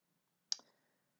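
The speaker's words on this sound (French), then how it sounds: "Hop, je clique ici." A single crisp computer mouse click lands close by in a quiet room, with a short faint rattle trailing after it.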